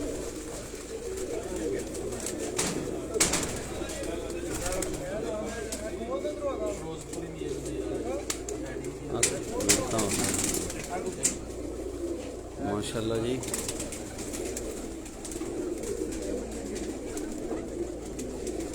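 Bateran and Kasuri cross pigeons coo softly at a home loft in Sialkot, low murmuring calls repeating under ongoing conversation, with occasional louder rustles and bursts of handling.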